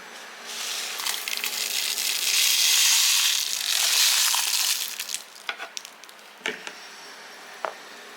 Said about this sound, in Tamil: இதை மிக்சியில் போட்டு நல்லா ஒரு பொடியாக பண்ணிக்க போகிறோம்